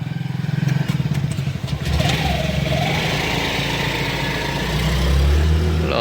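A car engine runs steadily while driving, a continuous mid-pitched drone with road noise, rising slightly toward the end as if accelerating.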